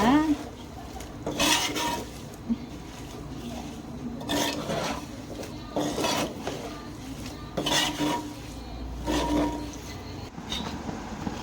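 A spoon stirs chili powder into a hot lemon pickle in a pot with slow, repeated rasping scrapes, each stroke separated by short pauses, while a voice talks quietly in between.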